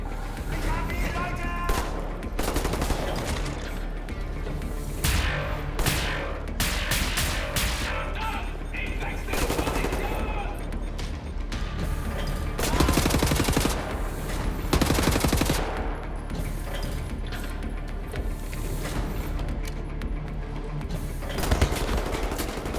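Rapid bursts of automatic gunfire and single shots crackle loudly through a video-game firefight, with explosive crashes scattered among them and occasional voice in the background.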